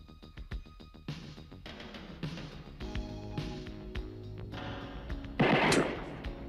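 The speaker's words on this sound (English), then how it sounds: "Warning shots." Warning gunshots in a movie scene, a series of sharp cracks and booms scattered over several seconds amid other movie sound, with one louder, harsher blast near the end.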